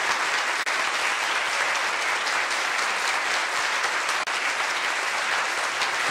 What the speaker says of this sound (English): Let's have another round of applause for Nia and Gentle Bear.